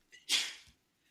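One person sneezes once, a short, sharp, breathy burst preceded by a quick intake of breath. It is fairly close and stands alone, with no talk over it.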